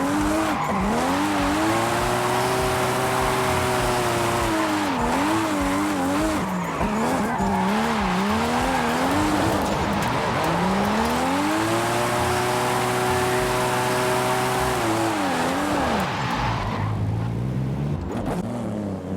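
Rear-wheel-drive car drifting in Forza Horizon 5, engine revving in long rising and falling sweeps with continuous loud tire squeal and skidding throughout, close and steady, no talk.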